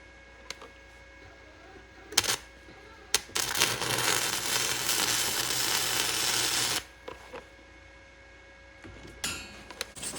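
Arc welding joins a piece of threaded rod and needle bearings into a loader part, a loud steady crackling hiss lasting a few seconds between sharp clicks and clanks before and after.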